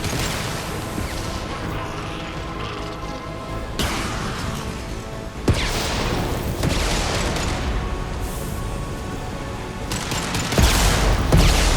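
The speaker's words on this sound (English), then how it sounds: "Firing an impact shot!" Impact shot gunfire in the game Mass Effect: loud, dense bursts of weapon fire and booming blasts come in several waves over a constant wash of battle noise.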